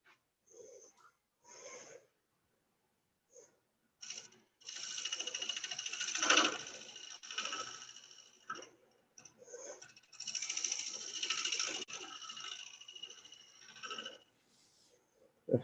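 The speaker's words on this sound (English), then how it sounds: "just touch it, the very bottom edge of the bowl gouge here. And just try to scrape this a little bit to clean it up" A bowl gouge scrapes wood on a spinning lathe, with close bursts of raspy, hissing scraping in several passes broken by short quiet gaps, taking off fine wispy shavings.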